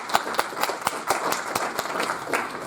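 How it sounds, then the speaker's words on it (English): Audience claps for panelists at a software ventures tech event, a small group giving distinct, separate claps in an uneven rhythm, close and fairly loud, with no talking. "So I'd like to give a round of applause to our panelists."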